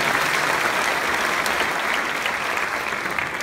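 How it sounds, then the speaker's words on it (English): Dense, even applause fills a festival hall at a magic show, a sustained crowd clapping at close range without a break. "Give them a big round of applause"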